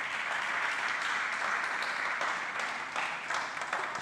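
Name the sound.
applause in church service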